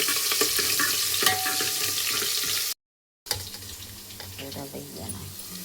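Stuffed brinjals (ravaiya) dropped into hot tempered oil with cumin, a close, loud hiss and sizzle with stirring, broken by a brief gap before the frying resumes more softly.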